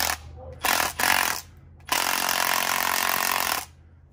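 An impact wrench hammers a nut onto a shock bolt on a CFMOTO ZForce side-by-side during a stage 4 shock install: two short loud bursts, then one longer sustained rattling burst, close up with no talking.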